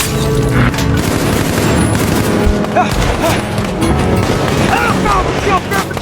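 Sharp bursts of gunfire crack over a loud, dense action-movie soundtrack, with booming impacts and thick background music throughout, and a voice can be heard speaking amid the din.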